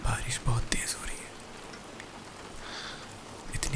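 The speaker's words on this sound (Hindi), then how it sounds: "बारिश बहुत तेज़ हो रही है" Heavy rain falls as a steady, dense hiss throughout, with whispered speech over it at the start and end.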